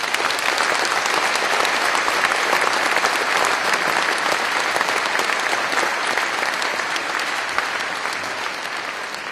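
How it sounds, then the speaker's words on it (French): Audience applause for the mayors at a town's New Year greetings ceremony, a loud continuous roar of many hands clapping, sustained and even before tapering slightly at the end. "je vais juste vous demander de me les applaudir"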